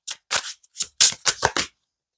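Tarot cards shuffled by hand in a series of about seven quick, crisp riffling bursts with short pauses between, close and fairly loud, then silence.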